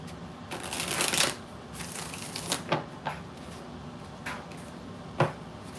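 Tarot cards being shuffled during a reading, a quiet papery riffle building to a fuller burst, then several brief soft shuffles and taps spaced apart, close and faint with no talking.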